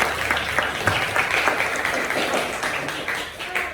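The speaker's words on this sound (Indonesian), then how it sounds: "Tepuk tangan dong buat kita semua." A class claps steadily together, sustained applause of many hands in a classroom, with a few faint voices mixed in.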